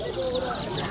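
Chickens cluck steadily in a busy poultry market, a dense continuous clamor of fowl close by with crowd noise underneath.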